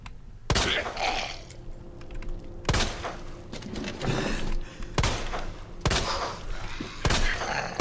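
Gunfire in the video game Resident Evil 2: a series of sharp, loud shots at irregular intervals, each a hard crack with a short rumbling decay, separated by quieter game ambience.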